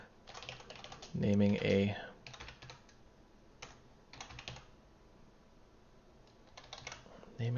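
Someone types in bursts on a computer keyboard, with quick clicking keystrokes between pauses, close to the microphone, while someone speaks briefly.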